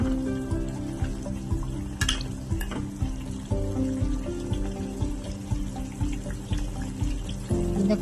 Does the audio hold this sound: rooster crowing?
no